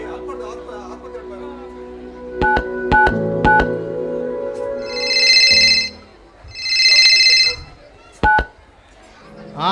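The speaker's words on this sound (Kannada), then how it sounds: "ನಾನು ವಿಕಾಸಕ್ಕೆ ಫೋನ್ ಮಾಡ್ಬೇಕು" On a Tulu comedy stage play, a phone is dialed with several sharp keypad tones, then two bright electronic ringing bursts sound, each followed by a pause.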